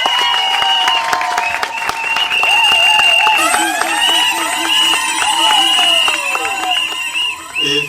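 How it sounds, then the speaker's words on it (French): Guests at a Gabonese customary wedding applaud loudly and close by, with cheering and high sung or ululating voices layered over the clapping throughout. "Applaudissez pour lui."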